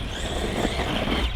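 Maverick Quantum 2 Flux RC car running on a 3S battery, its electric motor giving a steady, loud high-pitched whine with broadband road and drivetrain noise close by, no voices.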